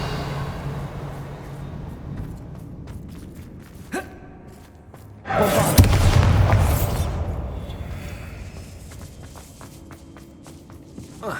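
In Hogwarts Legacy, a Confringo blast spell erupts as a sudden loud burst midway and fades into a long rumbling tail, set between soft footsteps and game ambience.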